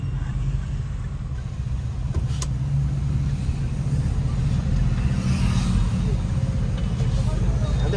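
A Dubai-style police vehicle at a large auto show in Kollam gives off a steady, loud low rumble of engine noise, running continuously under people talking.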